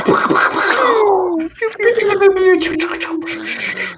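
A voice imitates a cat meowing several times, drawn-out and sliding in pitch, loud and close.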